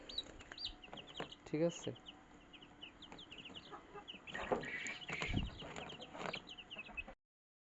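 Young chicks being moved out of a brooder cheep in rapid, high, overlapping peeps that continue throughout at moderate distance, with a voice briefly speaking and some handling noises.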